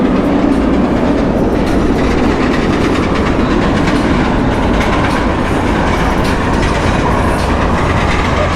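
A wooden roller coaster train, one train running, rumbles loudly along the track with a continuous rough roar and rattling clatter, heard close and alone.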